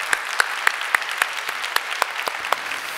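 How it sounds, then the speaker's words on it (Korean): A church congregation claps in an even, steady rhythm during a Sunday service, with about a dozen sharp, close claps spaced evenly over a few seconds. "우리 하나님께 감사의 박수 올려드리도록 하겠습니다"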